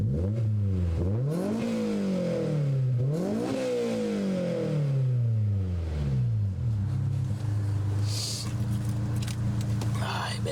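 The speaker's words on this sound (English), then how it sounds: "Give it a few more revs." A 2001 Honda S2000 engine revs repeatedly, rising and falling in steady swells before settling to a loud idle, heard up close outdoors in freezing weather with a faint jingle near the end.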